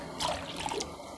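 A brief splash of water poured into a cooking pot of mushroom curry, a short trickle lasting under a second, close and moderately quiet.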